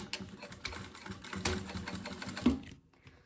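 Sewing machine stitching fabric for a two-color box-style school pencil case, a quiet, fast mechanical whir with rapid rhythmic clicking that runs for about two and a half seconds before stopping.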